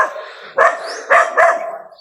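A dog barks three times in quick succession outdoors on a mountain trail, the sharp barks loud and close with a faint tonal whine between them.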